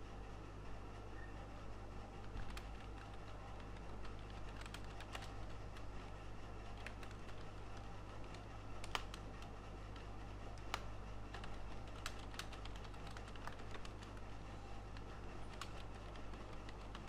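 Someone typing on a computer keyboard to write a channel description, giving faint, sparse key clicks over a steady low room hum.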